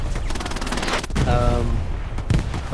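Rapid machine-gun fire in the WWII shooter Hell Let Loose rattles close and loud, broken by a couple of heavier shots, with a player's voice speaking partway through.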